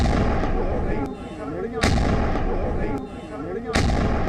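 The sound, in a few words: explosion blast echoing in Narwal, Jammu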